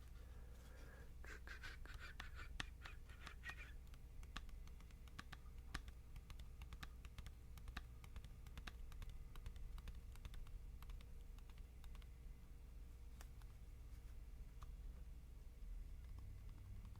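Fingernails tap and click steadily on a plastic CD case, a quiet, close run of rapid light ticks over a faint background hum, with no speech.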